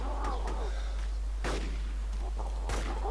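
Gunshots ring out in the survival video game DayZ, three or four sharp, booming reports spaced over a few seconds against a low steady rumble, with no speech.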